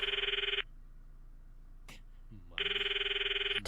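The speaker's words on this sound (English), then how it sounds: "I stopped the video and called Mayuri's phone from my address book." A phone in the visual novel Steins;Gate rings out when a call is placed: two long electronic ringing bursts separated by a quiet gap, loud and close, with a brief click between them.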